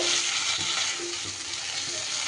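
Taro (gati kochu) frying with spices in a pan and being turned over, a loud, dense, hissing sizzle with soft stirring scrapes underneath, heard up close without speech.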